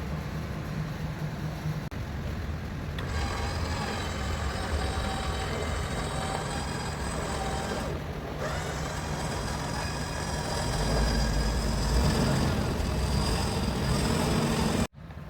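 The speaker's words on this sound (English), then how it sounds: "It has no problem pulling a vehicle that's in neutral." Steady mechanical drone of a Vevor 13,500 lb synthetic rope winch mounted on a Hummer H2, pulling a vehicle in neutral, a continuous whirring hum that grows louder near the end before cutting off abruptly.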